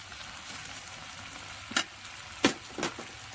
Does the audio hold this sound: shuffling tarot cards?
no